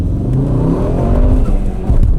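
A fire-damaged, rebuilt Volkswagen Golf R with 4Motion all-wheel drive accelerates hard, its engine note loud and close, rising steadily through the revs with no talking.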